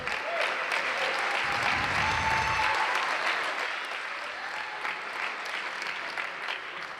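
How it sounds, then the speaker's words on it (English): Crowd applause fills a basketball championship venue after all-conference selections are announced, a dense, sustained patter of clapping that eases slightly toward the end. "Big round of applause."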